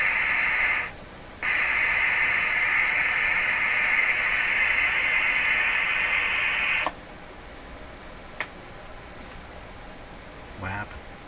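Steady loud squelch hiss from a B&K 1040 Citizen Band ServiceMaster CB radio tester, cutting out briefly near the start, then dropping sharply to a faint background with a few small clicks.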